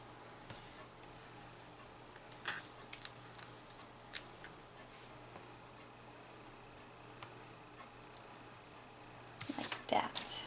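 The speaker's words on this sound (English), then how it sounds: "this one we'll cut in half" Scissors cutting a piece of card stock in half for a Christmas card, a few soft snips spread out, then a quicker close crunch of cuts near the end, quiet with faint whispery speech.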